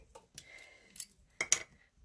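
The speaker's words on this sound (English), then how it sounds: "and we're going to snip this little mini in half" Paper snips cut a small piece of paper in a few sharp, separate clicks with quiet gaps between them, close and fairly faint.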